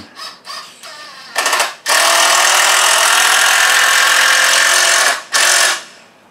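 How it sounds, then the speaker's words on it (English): Power drill driving screws into a tandem canoe rack for a car or truck, with two short bursts and then one long continuous whirring run close up, ending in a brief final burst. "drive some screws home"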